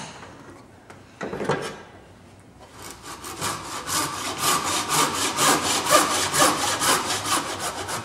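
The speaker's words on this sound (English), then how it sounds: "I'm sawing to the lines I can see." A hand saw cuts through timber for a bridle joint in steady, rhythmic back-and-forth rasping strokes, close and fairly loud, after a few scraping starts.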